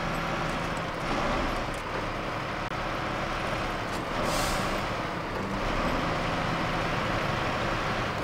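A Caterpillar CT680 truck in SnowRunner releases its air brakes in a steady, loud hiss over continuous engine and road rumble, with a brief brighter burst partway through.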